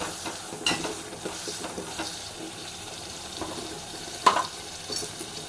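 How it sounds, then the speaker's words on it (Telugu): Masala paste cooking in oil in a pan for an egg gravy curry, with a steady low sizzle and occasional scraping stirs, close and fairly quiet with no talking. "ఈ పేస్ట్ ఆయిల్లో కొంచెం ఆయిల్ పైకి వచ్చేలా ఈ పేస్ట్ని మనం ఇలా ఉడికించుకోవాలి"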